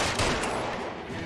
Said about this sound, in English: Warning shots.